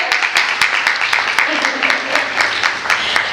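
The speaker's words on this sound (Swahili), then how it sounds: "makofi kwake" An audience at a Childbirth Survival International fifth-anniversary event applauds with a steady patter of many hands clapping, moderately loud, with a voice speaking over it.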